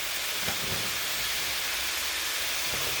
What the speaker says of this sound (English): We'll just saute that a little bit.